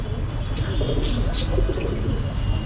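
Pigeons coo softly and repeatedly against a steady, rumbling background noise.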